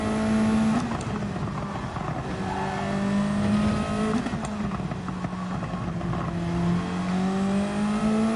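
A Super GT race car engine in Gran Turismo 7 drones steadily and loudly throughout, its pitch rising and dipping with gear changes, with faint other cars in the mix and no talking.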